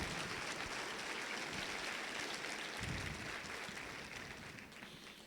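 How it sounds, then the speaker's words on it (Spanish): Church congregation applauding at a Sunday worship service, a dense sustained wash of clapping filling the room, loud and steady before slowly tapering off toward the end. "Dale un aplauso fuerte al Señor."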